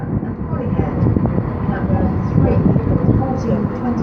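A Class 158 diesel unit, 158841, rumbles at Shrewsbury station, a continuous low engine and rolling drone holding steady throughout, with voices talking over it.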